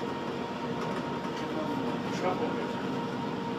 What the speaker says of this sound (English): But there's hardly anyone on this train.